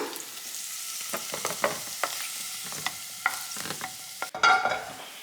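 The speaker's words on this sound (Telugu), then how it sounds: "ఫస్ట్ అయితే నెయ్యి వేసుకుని పన్నీర్ వేసుకున్నానండి క్యూబ్స్లా కట్ చేసుకుని ఇప్పుడు ఇవి ఫ్రై అయిపోయాయి" Paneer cubes fry in ghee in a pan, a soft steady sizzle broken by irregular scraping and clicking stirs, one louder clatter near the end, close and with no speech.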